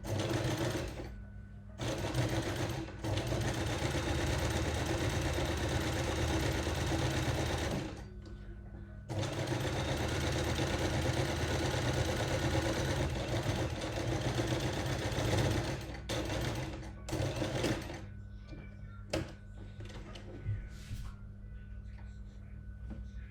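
A sewing machine stitches fabric in long continuous runs with brief pauses between them, a close, steady whirring hum that ends in shorter bursts.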